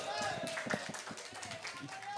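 A casual gathering at a fast-breaking dinner breaks into a few scattered hand claps, uneven and close, over a murmur of voices.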